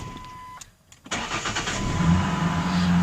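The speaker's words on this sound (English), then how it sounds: "I start the engine," A car with a 4.0 SOHC engine cranks briefly, then catches and settles into a steady idle without any startup rattle. The engine sounds close and fairly loud, and no one speaks.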